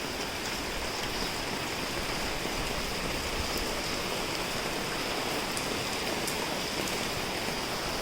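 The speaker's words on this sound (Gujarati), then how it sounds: "તો જો અત્યારે છે ને મસ્ત મજાનો વરસાદ છે ને તે ચાલુ થઈ ગયો છે" Steady rain falls continuously in Surat, a dense, even hiss of drops that stays close and fairly loud throughout, with no voices.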